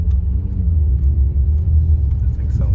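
Low, steady engine rumble from a Mercedes C43 AMG, heard from inside the car at an even idle or cruise, with faint voices underneath.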